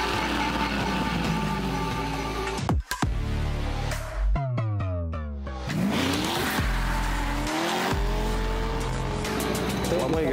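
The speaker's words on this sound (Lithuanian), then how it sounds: "Tai šeštoje vietoje turime Corvette Z06." A red Chevrolet Corvette Z06 sports car roars close by with rising and falling engine revs through gear changes and bursts of tire squeal, while voices talk over it.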